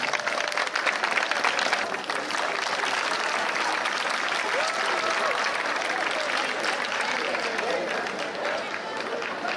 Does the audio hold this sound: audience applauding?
yes